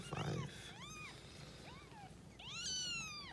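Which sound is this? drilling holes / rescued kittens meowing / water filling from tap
rescued kittens meowing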